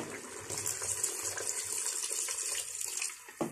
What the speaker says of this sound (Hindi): बाकी इसमें गर्म पानी ऐड करेंगे